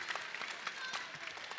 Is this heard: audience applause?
yes